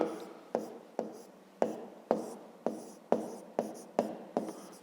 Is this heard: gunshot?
no